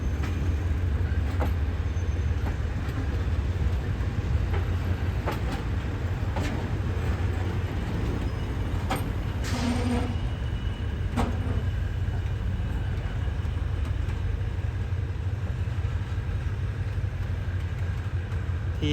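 A long train is shunted at Bangkok Hua Lamphong station, a steady low rumble of rolling stock with faint metallic clanks and squeals scattered throughout, heard at some distance.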